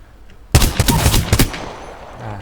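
Several sharp single-shot gunshots from a gun in the video game Apex Legends crack out close and loud in a quick irregular string, then die away into a quiet tail.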